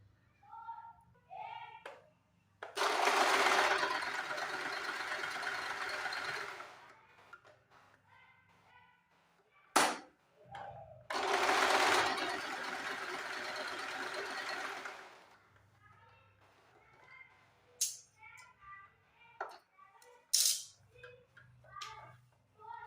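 Sewing machine stitching fabric for a homemade fabric latkan: two loud, steady bursts of rapid mechanical stitching, each several seconds long, separated by quieter handling of cloth and a voice speaking between runs.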